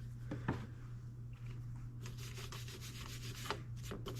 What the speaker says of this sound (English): Wire brush. You can brush up.